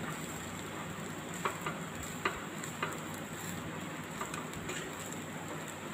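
Onion lemon rice being stirred in a pan on the stove, soft steady sizzling with a few light scraping clicks of the spoon at irregular intervals.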